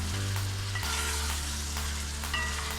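Meatballs frying in a pan with carrots and capsicum, giving a steady dense sizzle with a low background hum and occasional stirring clicks, close and continuous.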